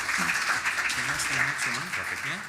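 Applause from a conference audience at a business case study session on hotel guest experience, a steady wash of clapping with talk audible beneath it.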